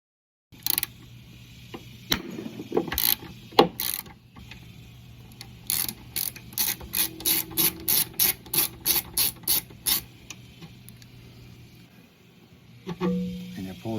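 A hand ratchet fitted with a T30 bit works on the idler pulley bolt of a Husqvarna HU700H mower, giving scattered clicks followed by a quick, even run of about a dozen ratcheting clicks, close and fairly faint.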